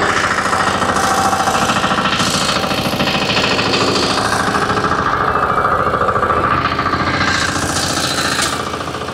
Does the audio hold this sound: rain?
no